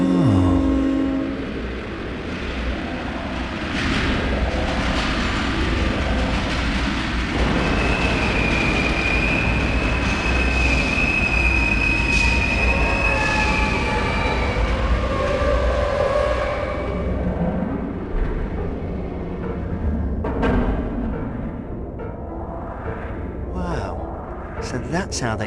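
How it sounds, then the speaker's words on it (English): An underground subway train in the video game OverBlood 2 rumbles along steadily with rail clatter and a sustained high whining tone, loud and continuous before fading toward the end, with speech heard intermittently. "An underground subway system."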